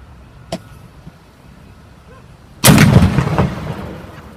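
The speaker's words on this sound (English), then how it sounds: "So you can see that initial detonation wasn't the primary detonation." A firework detonates during a safety demonstration: a small sharp pop comes first, then after about two seconds a loud, close blast that booms and fades over the following seconds, with no talking.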